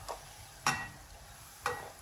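Flatbread dough frying and puffing in hot oil, with a soft continuous sizzle broken by three brief splattering bursts, close and fairly quiet, no voices.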